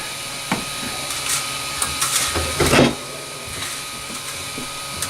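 Anet 3D printer extruder being loaded with new filament: a steady mechanical hum with faint clicks and a brief louder grinding burst midway, close up and without speech.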